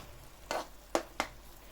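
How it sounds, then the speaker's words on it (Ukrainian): Three brief scraping stirs of sugar-coated, caramelised apples in a frying pan over a faint background sizzle, quiet and close, with short gaps between each stroke. "Трошки їх Притомлюємо на сковорідці."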